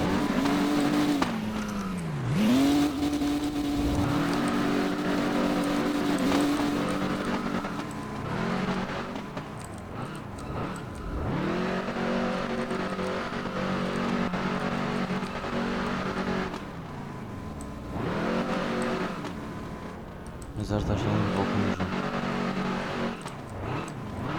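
Engine note of a car drifting in the Roblox game Redline Drifting, rising and falling through repeated revs and gear changes across several corners, loud and continuous with no talk.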